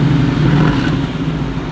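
A 500 hp, 2.5-tonne 4x4 idles with a low, steady rumble from engine and exhaust, recorded up close from the side.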